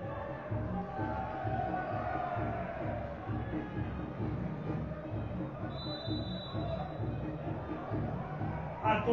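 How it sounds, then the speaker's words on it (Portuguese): Stadium crowd at a Copa Sul 2022 second-half football match between Muqui and Graúna, a steady broadband roar of many voices sustained throughout, with a brief whistle-like tone partway through. "A torcida vibra"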